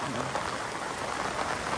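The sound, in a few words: heavy rain at night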